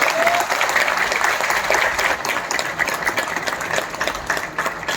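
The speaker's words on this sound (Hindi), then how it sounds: "एक बार जोरदार तालियां अपने लिए।" A seminar audience at a company business presentation in India breaks into loud, energetic clapping, a dense crowd of hands sustained at full strength throughout with a slight roomy echo.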